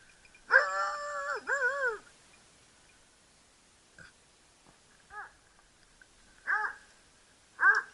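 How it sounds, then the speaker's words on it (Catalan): A dog lets out two long, drawn-out howling yelps, then after a pause gives several short, sharp barks spaced apart. It sounds fairly close, with no talking. "El sents el gos, Xevi?"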